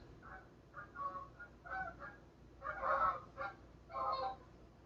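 Geese honk repeatedly at a moderate distance, a series of nasal calls in uneven bursts over a quiet outdoor background, with no talk.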